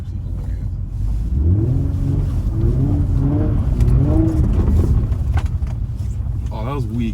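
A car engine revs hard and rumbles loudly while the car drifts around a corner. The pitch swells and falls as the throttle changes, and a person talks over it.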